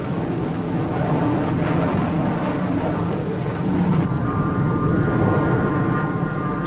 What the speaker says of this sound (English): the RF-101, the aircraft that played such an important role in the Cuban crisis